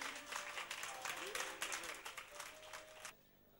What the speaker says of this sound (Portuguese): palmas outra vez